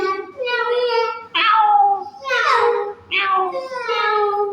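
A voice imitates a cat, giving several drawn-out meow-like wails of rising and falling pitch, loud and close, with short breaks between them.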